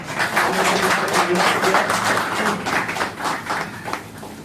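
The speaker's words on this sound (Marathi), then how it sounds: "सरांचं आपण एक स्वागत करूया टाळ्या वाजवून" An indoor audience claps steadily to welcome a speaker at a motivational class session, a dense, continuous round of applause close by with no talking over it.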